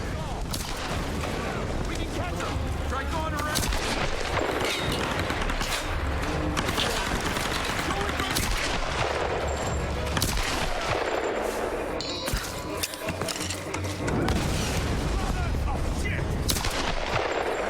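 Rapid gunfire in a Tomb Raider video game during a speedrun, loud dense volleys of shots and booms running nearly continuously, with a voice talking over the game sounds.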